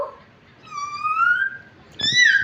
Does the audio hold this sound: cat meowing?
yes